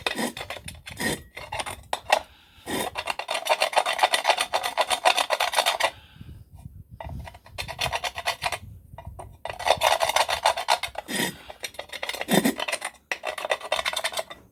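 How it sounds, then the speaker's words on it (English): Loose rust scraped off a lawn mower wheel, a close, harsh rasping scrape in long continuous strokes with brief pauses, loud and steady without talking. "And get all this loose rust off."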